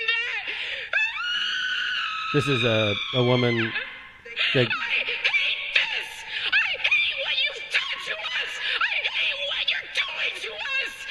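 A woman screams at the San Francisco City Council, long piercing shrieks and wails, close and loud, followed by agitated shouted speech and a murmuring crowd.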